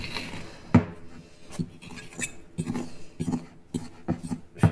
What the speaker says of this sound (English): So I'm just going to puff it down a little bit and stir it one more time.